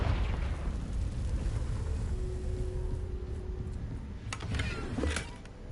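A Confringo spell explosion in Hogwarts Legacy, a fairly quiet, low rumbling blast that lingers and settles, followed by a few faint crackling snaps near the end.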